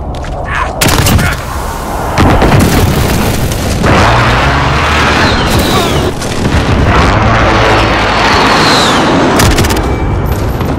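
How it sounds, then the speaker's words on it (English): Precision airstrike in Call of Duty Modern Warfare multiplayer: loud, dense volleys of booming blasts and crackling detonations rolling almost continuously, with several sharp heavy impacts and sustained rumbling between them. "friendly precision airstrike inbound"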